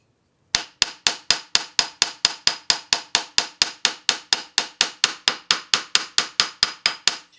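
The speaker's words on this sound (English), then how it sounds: "I've set myself up a little kind of post anvil in my vise, and I am just now peening the pins over." Hammer peening the pins of a handmade folding knife on a small post anvil clamped in a vise: about two dozen sharp metallic taps in an even, quick rhythm, close and ringing, with nothing else heard.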